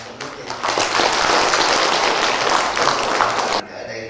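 Applause from a Buddhist congregation at a dharma talk in Melbourne: a dense, steady wash of many hands clapping that lasts several seconds, then cuts off abruptly.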